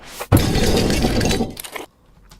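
A designed shattering effect built from ice or glass, a sudden sharp break followed by over a second of dense, bright crackling debris that cuts off abruptly, with a few faint tinkles after.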